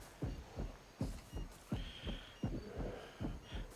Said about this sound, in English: you get this little scary music with a heartbeat going